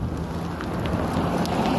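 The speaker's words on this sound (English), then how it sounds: "that's hailstorm." Dense, steady patter of hail and heavy rain pelting down during a flooding storm, a continuous close hiss with broadband crackle and no speech over it.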